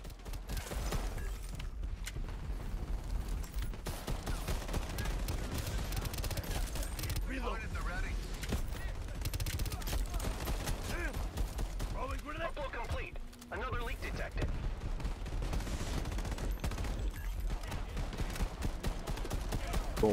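Video game gunfire while shooting at snipers, rapid bursts and shots running continuously in a busy mix, with a voice talking over the action.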